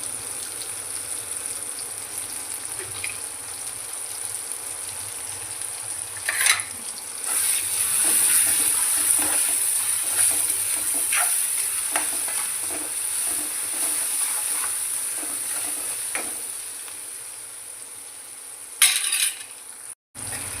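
Potatoes fry and sizzle steadily in a pan for aloo fry, a continuous close hiss with scattered stirring clicks and scrapes throughout, no voices.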